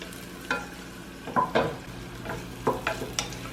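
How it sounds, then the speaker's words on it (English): Red onions sizzle in a hot pan and are stirred, a soft frying hiss broken by several scraping, clattering stirs of a utensil, with no talking. "Wait for that to heat up a little bit, and then we're going to drop in our onions."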